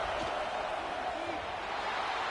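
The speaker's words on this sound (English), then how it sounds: "Listen to the crowd energy here in the early going." A stadium crowd in an NCAA football video game roars steadily through a Texas Longhorns versus Gators matchup, a dense, continuous wash of cheering that never drops away.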